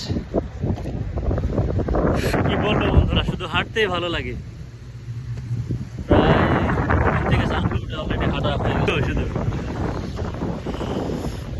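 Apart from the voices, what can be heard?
strong wind by the Tagus river, Lisbon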